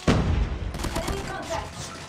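Scorpion gunfire in Call of Duty Mobile, a short burst of sharp shots at the start followed by scattered game sounds and a voice talking over them.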